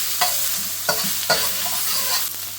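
Fish balls frying in a wok give a continuous close sizzle, broken by three or four quick stirring scrapes and tosses at an uneven pace, with no talking.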